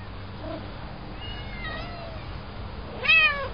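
Several cats on a rock give out meows: a couple of faint mewing calls early on, then a louder, rising meow near the end, over a steady low background rumble with no talk.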